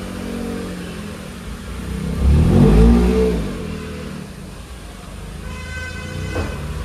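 Tata Altroz car rolling into a service bay, its engine rising to a brief louder swell midway and then settling back into a steady low hum.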